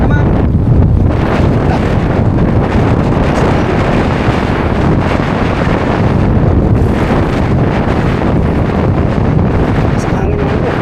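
Strong wind at sea buffets a fishing boat, a loud continuous roar of gusts against the microphone with water and waves beneath, while people talk faintly under the noise.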